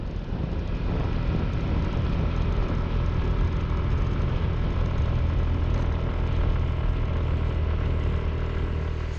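Steady engine drone from a motorbike loaded with camping gear, climbing a curvy mountain road in northwest Thailand, loud and continuous with low rumble and wind, no talk.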